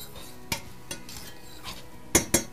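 A hot pan deglazed with Spanish Cabernet Sauvignon vinegar: soft sizzling under a handful of sharp utensil scrapes and clacks against the pan, the loudest two near the end, close up with no voices.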